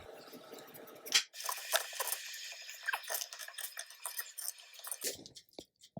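Knife slicing through a butternut squash on a cutting board, a sharp initial crack followed by crisp, scraping cuts and small clicks, close and fairly quiet with no talking.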